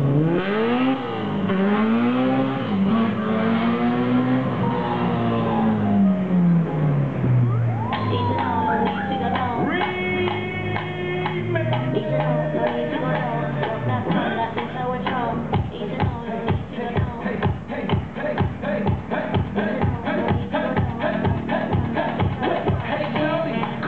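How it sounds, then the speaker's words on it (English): A Toyota MR-S and a Honda CRX launch from the line at an autocross event in a novice modified class, their engines revving loudly and rising in pitch as they accelerate, then holding a steady roar. "First run for both cars. There they go."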